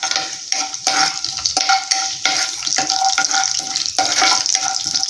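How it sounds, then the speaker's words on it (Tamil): Cumin seeds crackling loudly in hot oil for egg rice, a close, dense sizzle with utensil scrapes and stirring throughout, no voices. "சீரகம் நல்லா பொரியட்டும்."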